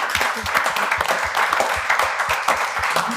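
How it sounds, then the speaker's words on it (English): Audience at a film festival panel on Indigenous voices in the BC film industry applauds three panelists, a short burst of close, brisk, uneven clapping from a modest crowd lasting about three seconds. "Can we give a round of applause for these three?"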